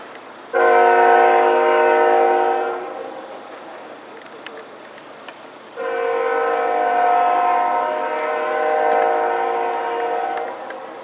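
A CSX freight train in Athens, Georgia, sounds its horn in two long, loud chord blasts separated by a pause, with the rumble of the passing train continuing between and under them.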